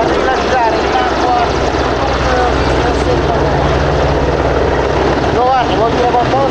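An Italian Navy SH-101A helicopter flies overhead at a seaside air show, a loud steady rotor and engine roar filling the clip throughout, with a commentator talking over it.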